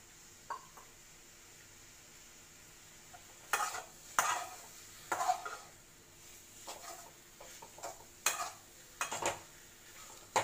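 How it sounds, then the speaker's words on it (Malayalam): Curry leaves are turned in hot oil with chicken pieces for chicken chukka: faint low hiss punctuated by a series of sharp scraping and clinking stirring strokes against the pan, intermittent and close. "ഒരു മിനിറ്റോ ഒരല്പം കൂടെയോ ഒക്കെ ഇട്ടൊന്ന് ഇങ്ങനെ മറിച്ചെടുത്തിടുക"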